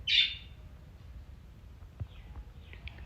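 One short, sharp bird chirp at the start, then near silence with a few faint, distant peeps.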